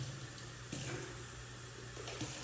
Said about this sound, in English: Just give it a little rinse here before I go and do it.